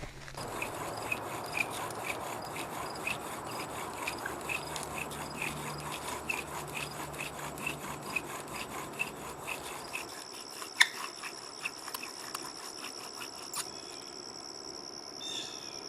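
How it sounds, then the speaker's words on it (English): Bow drill spindle worked back and forth against a wooden fireboard to make friction fire, a continuous close rubbing rasp in even strokes that stops near the end, leaving faint insect-like ambience. "we want even strokes with that spindle to get that going"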